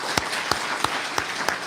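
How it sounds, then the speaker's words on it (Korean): A church congregation applauds at an Easter Sunday service, giving a steady patter of clapping with a few sharper claps standing out, moderately loud and with no talk over it. "교인들은 박수로 환영해 주시기 바랍니다."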